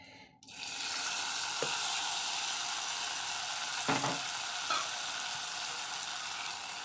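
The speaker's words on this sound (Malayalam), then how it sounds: "കടുക് ഇട്ട് കൊടുക്കാം. വറ്റൽമുളക് ഇട്ട് കൊടുക്കാം. കറിവേപ്പില ഇട്ട് കൊടുക്കാം. താളിപ്പൊഴിച്ച് കൊടുക്കാം." Mustard seeds, dried red chillies and curry leaves hit hot oil for a tempering and burst into a loud, steady sizzle with a few faint crackles and pops, close by and without talk.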